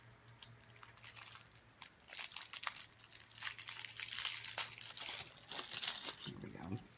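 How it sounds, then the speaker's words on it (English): Plastic and paper packaging crinkles and rustles almost nonstop as a craft kit package is opened, loud and close for about seven seconds over a faint steady hum. "Sorry for the crinkling."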